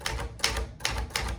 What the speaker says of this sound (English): I've hacked the typewriter, so I'm gonna be moving it back and forth a little differently